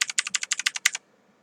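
About a dozen quick keystrokes tap out on a computer keyboard in a steady rhythm, close and crisp, then stop into near silence.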